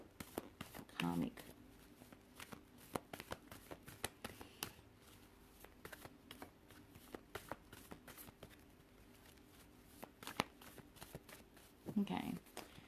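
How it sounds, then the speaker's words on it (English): Tarot cards being shuffled in a run of soft, rapid riffling taps and flutters that continues through the clip, close and fairly quiet, with brief louder bursts near the start and end. "Okay, just bear with me with the shuffling."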